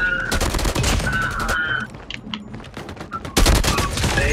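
SKS rifle fire in an online multiplayer shooter game comes in rapid, loud repeated shots in bursts, with a short lull before another volley.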